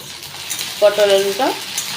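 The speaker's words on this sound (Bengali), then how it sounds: "এখন ভেন্ডিটা আগে ভেজে নেব" Okra fries in a pan with a soft, even sizzle, and a brief, tonal, squeaky scrape rises in the middle before the steady hiss settles again. No one talks.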